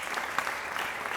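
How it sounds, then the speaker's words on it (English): An audience at an Africa Memorial Day celebration applauds steadily, a dense even wash of clapping from many hands with no break. "I would naturally expect a big round of applause"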